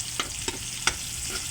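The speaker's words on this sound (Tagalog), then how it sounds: "Baliktadin talang natin guys at mix at i-set aside natin." Chicken is stirred and fried in a wok, a steady sizzle broken by three sharp scraping clanks of the utensil, close and clear.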